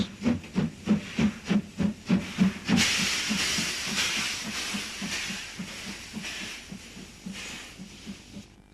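A DR Class 52 decapod steam locomotive in the yards at Halberstadt chuffs in a steady rhythmic beat, then releases a long loud hiss of steam as the exhaust beats continue more faintly beneath it.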